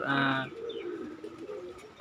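Pigeon cooing near its eggs, a loud close burst of throaty coos at the start followed by softer, fainter cooing and rustling.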